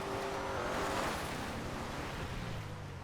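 Powerful car in GTA Online driven off-road, a loud, rushing roar of engine and wind noise with a faint tonal whine, steady and close, easing slightly toward the end.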